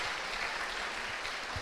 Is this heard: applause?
yes